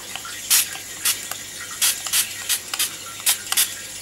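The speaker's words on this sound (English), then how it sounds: "I'm gonna actually spray this on the page as well." Starburst color spray in Cape Cod Coral misted onto a journal page: about a dozen short, hissing spritzes in irregular bursts, close and fairly crisp over a quiet background.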